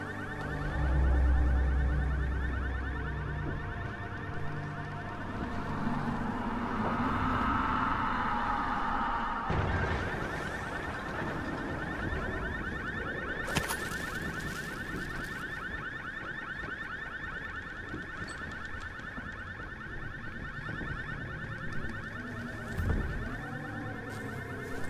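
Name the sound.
alarm going off in the video game Dying Light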